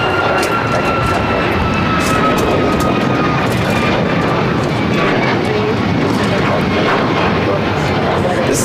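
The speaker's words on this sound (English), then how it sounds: "This is United Airlines 1295 taking off to Lihui on the MAX 8" A United Airlines Boeing 737 MAX 8 taking off from LAX, a steady loud jet roar with a thin engine whine, heard under ongoing talk.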